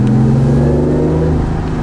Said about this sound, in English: We can instantly hear the petrol engine kicking in sport mode now